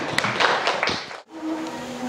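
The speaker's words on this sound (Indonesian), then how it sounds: "silakan tepuk tangan lagi untuk temannya" Classroom applause for a student: a dense burst of hand clapping lasting about a second, then a sudden drop to quiet room tone with a faint steady hum.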